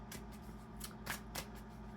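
A deck of black oracle cards from the Wisdom of the House of Night set being shuffled by hand: several quick riffling bursts of papery flutter, close and fairly quiet, with no talking.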